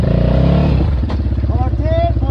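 An enduro motorcycle's engine revs close by in a rough, pulsing throttle burst that drops back to a lumpy idle, with someone shouting over it.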